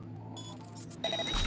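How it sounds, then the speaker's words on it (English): Electronic alarm in the video game Cyberpunk 2077, short high-pitched beeps entering over a low ambient hum, followed by a brighter burst of repeated tones near the end, moderately loud with no speech. "An alarm?"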